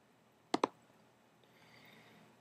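Computer mouse clicked twice in quick succession, two sharp close clicks alone in a quiet room with faint background hiss.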